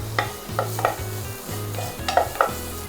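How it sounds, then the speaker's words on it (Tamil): Green chillies and paste sizzle in a pan for a Burmese egg curry, with a spoon scraping through them in about six regular, close strokes over a steady frying hiss. "ஸோ இந்த ஸ்டேஜில் வெட்டி வச்சுருந்த பச்சை மிளகாவும் போட்டு நல்லா மிக்ஸ் பண்ணிக்கலாம்."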